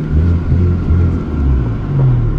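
A truck tractor drives along a dusty farm road near a cattle corral, its engine a steady, loud, low rumble from inside the cab with slight surges, no talk.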